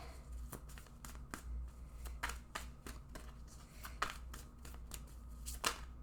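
Tarot cards handled close up: a series of quick, crisp flicks and slides as cards are picked up and moved, quiet and alone with no voice over them.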